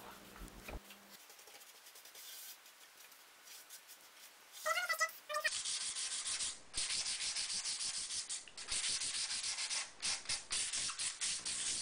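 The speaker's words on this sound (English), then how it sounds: "Using 220 grit sandpaper, she started to sand in random areas to give the table a worn look." A wood table rubbed with 220 grit sandpaper, producing rhythmic scratchy sanding strokes that grow louder and denser after a quiet start, close and alone without voices.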